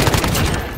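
Rapid gunfire rattles through a Call of Duty Modern Warfare firefight, a dense, loud burst of overlapping shots that thins out toward the end of the short moment.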